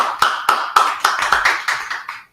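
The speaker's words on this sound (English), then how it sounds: "Clap it up for Horacio." A few people clap in a slow, fairly regular rhythm at a Harlem gathering, eight or nine crisp claps that fade away after a couple of seconds.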